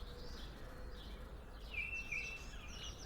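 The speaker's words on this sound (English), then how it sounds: "I'm really struck by how loud the bird song is and how beautiful it is." Birds sing clearly and fairly loudly, with repeated whistled phrases and chirps over a soft background hiss.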